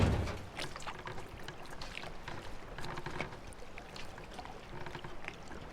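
Water in The Witness video game pours and trickles quietly with a steady splashing texture, faint, with no talk over it.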